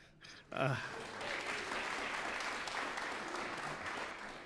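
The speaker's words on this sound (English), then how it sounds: "that deserves an applause" Steady, dense applause from a large audience at the Harvard Arts Medal Ceremony fills the whole stretch after a brief moment of quiet at the start.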